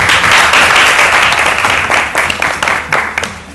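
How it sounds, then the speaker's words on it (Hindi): Loud, dense applause from a television studio audience fills the space, a continuous wash of many hands that gradually thins into separate claps toward the end. "थैंक यू समया के लिए बहुत सारी तालियां।"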